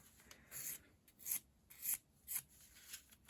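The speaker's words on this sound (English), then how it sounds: "As you can see, it doesn't take an awful lot of filing." A file rasps over a builder gel nail extension in five short, soft scratchy strokes spaced roughly half a second apart. The strokes are close and quiet, with near-silence between them.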